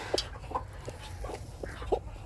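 A purebred Cochin hen broods on Australorp eggs, giving a few soft, sparse clucks close by against a quiet background.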